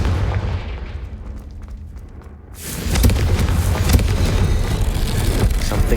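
A Confringo blasting spell fires in the video game Hogwarts Legacy: a low rumble gives way to a sudden loud burst and a sustained roaring blast that carries on to the end, with no talking.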